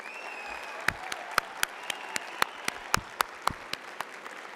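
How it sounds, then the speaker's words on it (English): Audience applauding nursing graduates at a college commencement, a soft, distant spread of clapping with sharper claps popping out irregularly, and a voice faintly present beneath. "Everyone, please join me in applauding these outstanding graduates."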